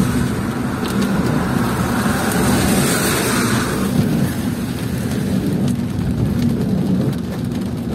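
Rain pelting the side window of a car in Cabo Frio, a steady dense wash of drumming and hiss that runs unbroken and fairly loud, with a low road rumble underneath and no voices.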